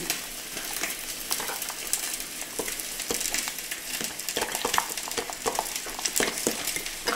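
A sauce with a spoonful of balsamic vinegar being stirred in a pan, with a steady frying sizzle and soft scraping strokes running throughout at close range, no voices.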